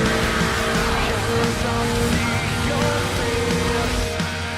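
Cars race through the Burnout Paradise video game with a dense, constant engine roar and long squealing tires, loud and unbroken throughout, with no voices over it.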